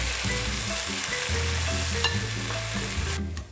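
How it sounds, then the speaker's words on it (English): Browned shallots and garlic fry in a pan, and Shaoxing wine is added to deglaze it, creating a loud, continuous close sizzle with stirring scrapes. A low hum runs beneath, and the sizzle dips slightly at the end. "Now that the shallots and garlic are brown, you're gonna add some Shaoxing wine to kind of deglaze the pan."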